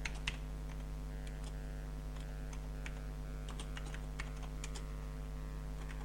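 Soft, irregular key clicks from a computer keyboard tap along over a steady low electrical hum, faint and close.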